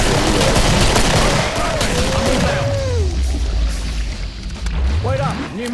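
Several players fire together in the co-op shooter Killing Floor: loud, dense gunfire dominates the start, then thins out while voices talk over it.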